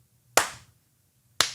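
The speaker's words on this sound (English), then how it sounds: "I love the clapping part." Two single hand claps, crisp and close, about a second apart with near silence between them.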